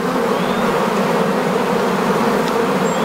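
Honeybees swarm around an open hive in a steady, dense drone, a continuous close buzzing that fills the whole moment without pause.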